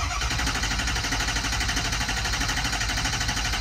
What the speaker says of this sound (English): engine turning over.